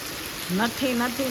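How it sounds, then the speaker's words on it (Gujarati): Steady rain pours down in a village, a broad, even hiss filling the background while someone talks over it. "અને હું વરસાદ બતાવી દઉં તમને જો કેટલો વરસાદ આવે છે."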